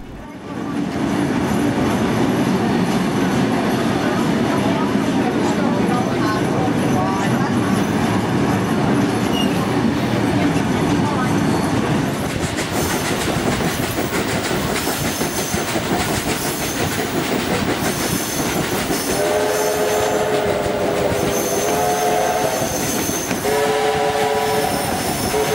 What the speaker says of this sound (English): the two locomotives now make their way to Thirlmere